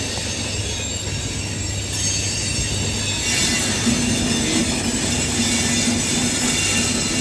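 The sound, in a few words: train passing with harsh wheel squeal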